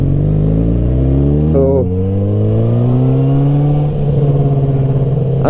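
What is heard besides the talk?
1000cc sport motorcycle accelerating with throttle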